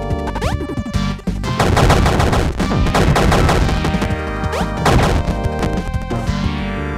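Rapid bursts of gunfire and crashing impacts from shooting in the indie video game Super Crate Box, loud and dense, with a brief pause near the one-second mark before the firing resumes.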